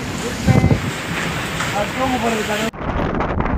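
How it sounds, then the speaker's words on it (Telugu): Strong cyclone winds near Chennai roar into the microphone as rough sea waves churn around fishing boats, making a continuous heavy rumble and whoosh. "అలలు చూడండి, గాలి ప్రభావం ఎక్కువ అవడం వల్ల ఆ బోటు దగ్గర సముద్ర వాతావరణం అతలకుతలంగా ఉంటుంది."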